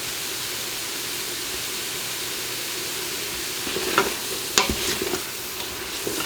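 Onion with about six cloves of minced garlic sautéing in a pot, a broad steady hiss that picks up a few close clinks and scrapes of stirring in the last seconds, with no one talking.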